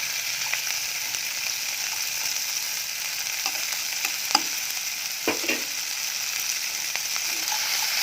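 Red chilies fry in a pan for sambal ulek, giving a steady close sizzle with a few sharp scrapes and clicks as they are stirred and spread out.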